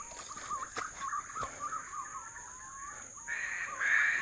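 A crow caws in the forest around a fruiting banyan tree on a pigeon hunt, a few hoarse calls at moderate distance over a steady insect buzz, followed by a louder rasping burst near the end.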